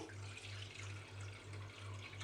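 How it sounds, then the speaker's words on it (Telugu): Water runs steadily into a pot, a continuous splashing stream with a low pulsing hum underneath, fairly quiet and without speech. "ఇలాంటి గిన్నె ఉంచుకొని ఇందులోకి మనం నీళ్లు పోసుకోవాలి"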